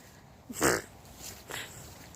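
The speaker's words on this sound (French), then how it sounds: "C'est un petit Jack Russell là." A small Jack Russell terrier, outdoors by a garden where nest boxes are being put up, gives one short yap followed by a fainter second bark about a second later, with no talk in between.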